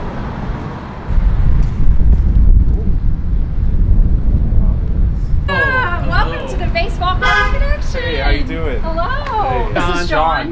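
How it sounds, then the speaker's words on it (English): Steady wind rumbling and buffeting a microphone outdoors in Effingham, with a person talking over it in the second half and faint traffic behind. "It's very windy today."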